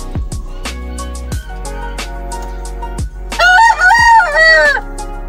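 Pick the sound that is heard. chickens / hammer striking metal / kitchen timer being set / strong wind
chickens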